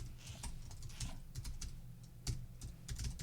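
Quiet, close typing on a computer keyboard, a quick irregular run of soft key taps and clicks with no voices.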